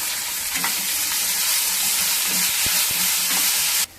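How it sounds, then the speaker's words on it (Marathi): Finely chopped onion sautés with two bay leaves in a pan, giving a steady, close sizzle broken by a few sharp stirring taps before the sound cuts off abruptly. "बारीक चिरून घेतलेला कांदा तो छानसा परतून घेऊया"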